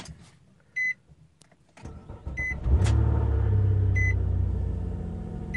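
A 2005 Nissan Maxima starts up: a few faint clicks and chimes, then the engine catches and settles into a steady low idle rumble close by, with interior chimes repeating.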